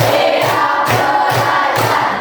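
Students in a class clap together in a counted pattern, evenly spaced bursts of group clapping mixed with a crowd of children's voices chanting in unison.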